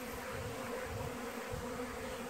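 Honey bees buzz in a steady, dense drone around a hive, continuous and fairly quiet throughout, with no talking.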